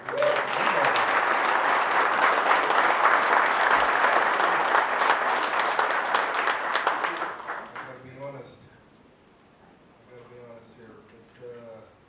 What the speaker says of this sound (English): I've got a round of applause for Jesse Watson.